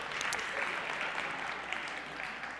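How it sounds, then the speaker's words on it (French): An audience at a corporate values and training talk gives steady, sustained applause that sounds somewhat distant and subdued. "On donne une main d'applaudissement, c'est extraordinaire."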